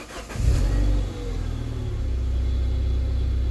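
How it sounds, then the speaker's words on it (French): A Peugeot 306 S16 engine fires up with a short loud roar, then settles into a steady, low rumbling idle close by. "si je mets mon coup de clé, ça va démarrer"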